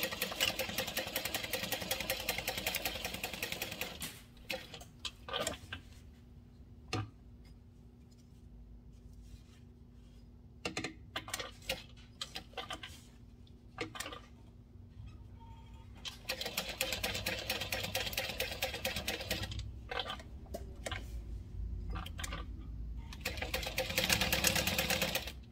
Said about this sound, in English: then we're going to sew around these 3 edges, leaving this long one open